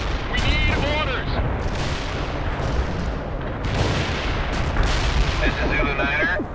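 Heavy artillery fire in the real-time strategy game World in Conflict, deep booming shells over a rumbling battlefield, mixed with radio-style voices and crackling gunfire.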